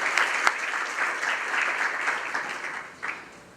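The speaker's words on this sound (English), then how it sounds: "we got to give a big hand of applause to our finance director, Bill Patterson." An audience applauds the finance director during the City of Coachella State of the City Address, a full crowd clapping in a continuous patter with a few louder bursts, tapering off toward the end.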